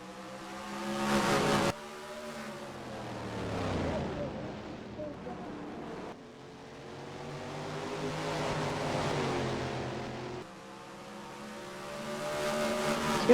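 Stock cars race at Richmond in NASCAR Racing 2003, engines roaring and droning past in waves with abrupt cuts and swells, alongside a commentator's voice.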